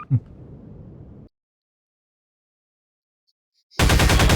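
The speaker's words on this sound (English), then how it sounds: "the gun is so loud" Rapid automatic gunfire from a weapon in Half-Life 2 bursts in loud and dense at the end, following a short low rumble and a long silence.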